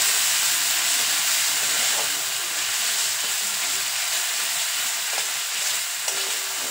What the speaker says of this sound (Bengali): আদা রসুনটা দেওয়ার পর আবারও খুব ভালো করে ভেজে নিতে হবে